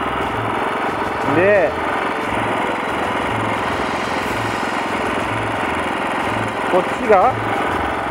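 The engine of a mulcher bed-shaping machine on a cucumber farm chugs steadily in a low, even rhythm as it starts and is throttled up. Someone speaks briefly over it, and a couple of short whistling chirps come through.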